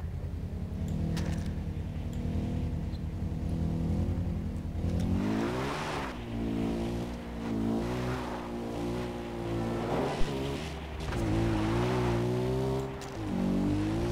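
Car engine in the video game Far Cry 4, driving on auto drive, a loud steady engine drone that rises in pitch as it accelerates, with a rushing wash of ambient water and wind behind it and no voice.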